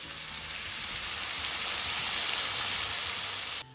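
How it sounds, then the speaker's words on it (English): Bacon fries in a hot pan with a continuous, even crackling sizzle held at a moderate level for several seconds before cutting off abruptly. "I'm just gonna toss all my bacon in here until it's nice and crispy."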